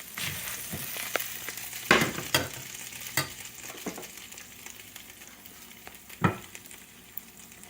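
Grouper fillets frying in a pan of hot oil, with a soft continuous sizzle broken by a few sharp utensil clinks and scrapes, nearby and moderately quiet, no talking.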